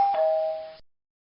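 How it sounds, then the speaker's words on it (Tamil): A doorbell rings once, a clear electronic ding-dong chime near and loud, sustained briefly and then cut off into silence. "காலிங் பெல் அடிச்சது"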